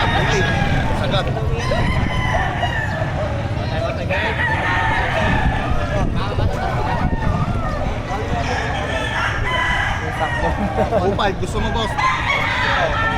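Roosters crow amid the constant crowd noise of the Padre Garcia livestock auction market in Batangas, with people talking nearby throughout and the calls blending into the busy din.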